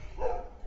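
A single short dog bark at night, somewhat distant and faint against a quiet indoor background.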